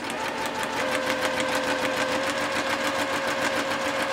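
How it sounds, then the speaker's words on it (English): A sewing machine runs steadily, stitching a quilt block at a 2.5 stitch length with a fast, even, continuous whir alone at close range. "So here I am on my sewing machine"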